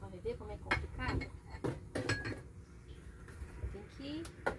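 Dishes and pans are rinsed in a motorhome sink, with close, scattered clinks and knocks of cookware and cutlery among soft splashing, while someone talks throughout.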